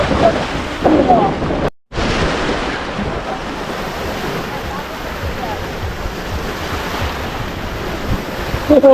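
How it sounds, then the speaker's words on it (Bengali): Waves on Nikli haor in Kishoreganj wash ashore in a continuous rushing hiss, loud and close, with wind buffeting the microphone and a brief dropout early on. "সেরকম ঢেউগুলো কিন্তু আসছে শ শ শ করতেছে"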